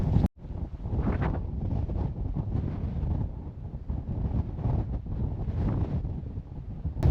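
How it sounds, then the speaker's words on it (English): Strong wind in the Yorkshire Dales between Hawes and Keld roars and buffets against the microphone, a continuous rumbling gust with slight surges, no voices. "The wind has certainly picked up"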